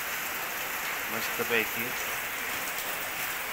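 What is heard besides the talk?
light drizzling rain in Kerala monsoon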